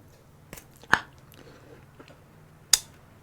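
Fish roe being chewed up close, a few soft wet bites and squishes with sharper crunchy clicks near the start and end, otherwise quiet.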